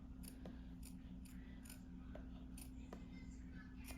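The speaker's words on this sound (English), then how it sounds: "usually I just cut a slit" Scissors snip a slit in fabric for a mask wrap, a series of faint, crisp cutting clicks in an uneven rhythm over a steady low background hum.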